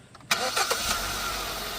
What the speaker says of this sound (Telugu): ఒకసారి బండి స్టార్ట్ చేసి ఇంజిన్ సౌండ్ ఎలా ఉందో కూడా చూపించేస్తాను